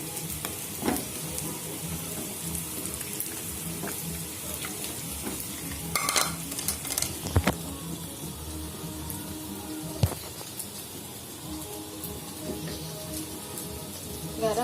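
Ground spice paste stir-fried with bay leaves and galangal for sayur asem, a constant sizzling hiss broken by intermittent spatula scrapes and a few louder clanks against the pan.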